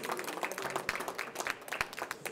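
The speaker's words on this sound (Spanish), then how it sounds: "Yo le doy un aplauso a mi querida Alejandra" Audience applause for Senator Alejandra Reynoso at a conference, a dense continuous patter of many hands clapping with a few sharper close claps, fairly loud and without speech.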